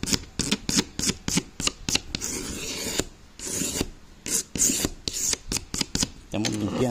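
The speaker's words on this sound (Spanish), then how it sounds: "todo este clip ahorita le estoy dando una lijada" Hand sanding a car part with sandpaper while prepping it for varnish or clear coat, a loud, close rasping in quick repeated strokes with brief pauses between them, and a voice speaking near the end.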